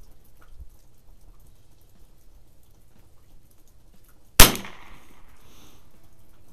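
A single sharp .22 LR crack from a 1935-37 Mossberg No.42 bolt-action rifle on a shooting range, fairly close, followed by a short fading tail and quiet background.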